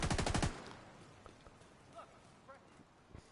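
Automatic gunfire in the video game The Division 2, a rapid, loud burst of about eight shots in the first half second, followed by scattered fainter shots and distant clatter, with a voice speaking briefly.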